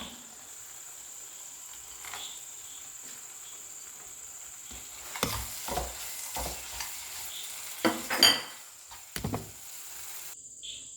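Cashew nuts being stirred into semolina rava kesari in a pan, soft scraping stir strokes over a faint sizzle, sparse at first and then a cluster of louder spoon knocks and scrapes near the end, with no talking.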